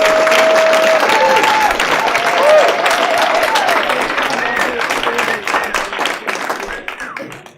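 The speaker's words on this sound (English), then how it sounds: "give another round of applause" A large audience at a psychedelics and drug policy event gives a loud, sustained round of applause, dense clapping with some cheering voices, that gradually fades toward the end.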